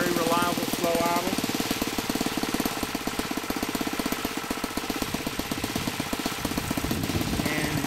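A Saito 1.00 GK four-stroke model airplane engine idling slightly rich at a slow, steady idle, a close, continuous rapid knocking chatter with a faint voice briefly heard at the start.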